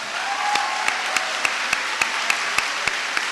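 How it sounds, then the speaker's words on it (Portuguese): A church congregation applauds with steady clapping, a dense wash of many hands with sharper claps standing out at a regular beat, carrying on without a break. "Você pode dar um aplauso ao Senhor?"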